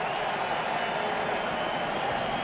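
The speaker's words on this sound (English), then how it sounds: "you can hear the crowd getting excited about the Redskins picking up that first down" A football stadium crowd at a Redskins home game against the Eagles roars steadily after a first down, a dense, continuous wash of distant cheering and applause with no single voice standing out.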